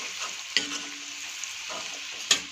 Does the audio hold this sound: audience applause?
no